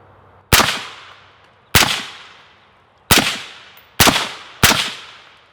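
Five suppressed .223 rifle shots fired through a .30 caliber silencer, each a sharp, loud crack with a short decaying tail, spaced irregularly about a second apart outdoors.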